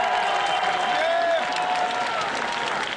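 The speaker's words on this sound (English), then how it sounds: "clap if you were at Cal State Northridge 5 years ago." Audience at the 2012-2013 VEX Robotics game reveal for Sack Attack clapping and cheering steadily throughout, a dense crowd applause in a large hall with some voices mixed in.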